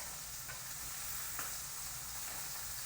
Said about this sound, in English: So we've got the sear on for the kielbasa.